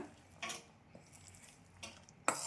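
Utensil clinking against a bowl while wheat flour batter is mixed with spices, a few sharp scrapes and taps spread across quiet stirring, the last one loudest.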